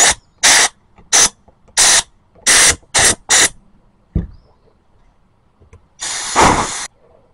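Compressed air blasted through a riding mower carburetor in a series of short, loud hissing bursts, about seven quick spurts, a brief clunk, then one longer blast after a pause.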